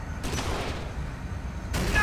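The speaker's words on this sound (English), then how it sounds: "Wow, I was right next to that explosion." An explosion in the video game Kane & Lynch 2, reportedly a gasoline tank blowing up, comes through as two loud booming bursts with rumbling noise between them, close and heavy, with people talking over the game.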